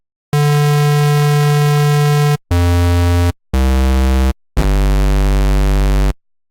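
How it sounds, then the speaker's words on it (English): Four loud, gritty square-wave synth notes made in Serum, harmonically rich and buzzy, played one after another with short gaps, the first held longest and the last sitting lower with a heavier bass. "So you can hear we have a nice square waveform,"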